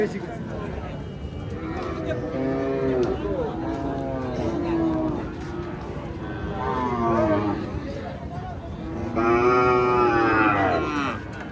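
Several drawn-out moos from a one-year-old Nepal-breed calf repeat over about ten seconds, fairly close, with a louder call near the end and talk nearby.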